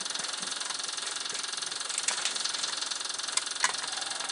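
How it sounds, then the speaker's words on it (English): A diesel tractor engine runs in a steady, buzzing idle with faint knocking and a few small clicks, close by and alone. "This tractor is diesel, so you'll hear some funky noises from a diesel tractor like this."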